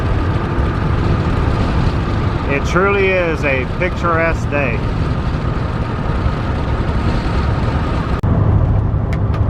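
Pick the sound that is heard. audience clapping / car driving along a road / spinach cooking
car driving along a road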